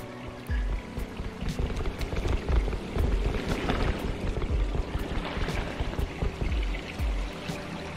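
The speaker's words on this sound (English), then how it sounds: "This water looks quite nice when you're going down the slide." Water rushing down a slide in the video game Bonelab, a steady close splashing pour with scattered droplet-like ticks and gurgles running throughout, without any talk.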